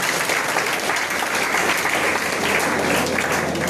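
Students and staff at a school workshop clap together in sustained, even applause that fills the hall without a break.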